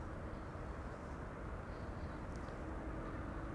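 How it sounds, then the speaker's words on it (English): An EasyJet Airbus A319 arriving at Amsterdam Schiphol from Bristol gives a steady, faint, distant rumble of jet engine noise, broad and unchanging throughout. "this is EasyJet flight 25530 arriving from Bristol"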